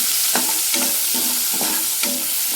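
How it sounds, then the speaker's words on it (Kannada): Onions fry with mustard seeds and cumin under a constant close sizzle, while a spatula scrapes the pan in four evenly spaced strokes. "ಹಾಗೆ ಸಾಸಿವೆ, ಜೀರಿಗೆ, ಆಮೇಲೆ ಈರುಳ್ಳಿ ಹಾಕ್ಕೊತೀನಿ. ಈರುಳ್ಳಿ ಚೆನ್ನಾಗಿ ಫ್ರೈ ಆಗಬೇಕು."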